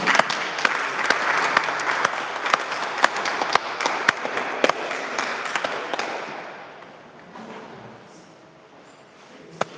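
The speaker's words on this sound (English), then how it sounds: "Give her a clap as she comes." A church congregation at a Sunday communion service claps together, a dense sustained round of applause with sharp individual claps that thins and fades out toward the end.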